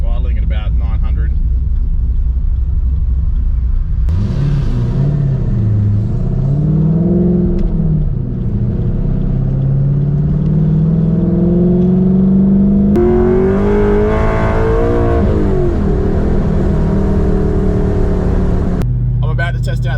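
A cammed Ford BA GT engine rumbles at idle with a lumpy, loping note, its pitch dipping and climbing as the revs hunt, with someone talking over it through much of the clip.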